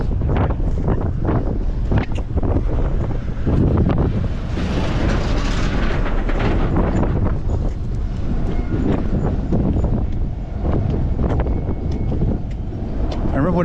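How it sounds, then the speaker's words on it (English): Strong wind buffets the microphone during a walk through an industrial sector of Lachine, Montreal, a loud continuous rumble with gusty surges, mixed with people talking throughout. "The wind is so annoying though."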